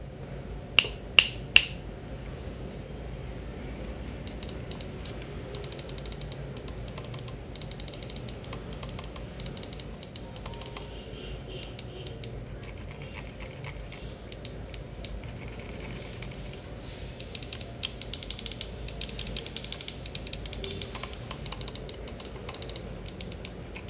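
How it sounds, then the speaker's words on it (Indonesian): Button clicks from a Digital Alliance Air FA wireless gaming mouse, a budget model, sound as a run of sharp, close, dry clicks, a few louder snaps at the start and denser bursts later, with no talking. "Oke, dan ini adalah suara klik dari mouse ini."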